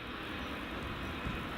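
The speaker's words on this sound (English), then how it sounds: "that nice BizJet's just taxiing along there" Low, steady engine drone from a business jet taxiing at Edinburgh Airport near runway 24, faint and somewhat distant, holding an even rumble throughout.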